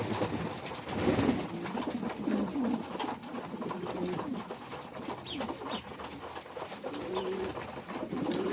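Domestic pigeons in a Turkish loft give repeated low cooing calls, fairly close and continuous over a dense background of bird noise, with a few soft wing flutters mixed in.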